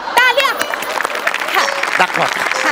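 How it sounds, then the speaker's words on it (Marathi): Studio audience at a Marathi comedy show, scattered applause beneath a loud overlapping speaking voice throughout. "टाळ्या"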